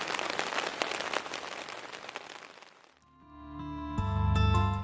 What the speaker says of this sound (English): Well, it's still chucking it down with rain, I'm afraid.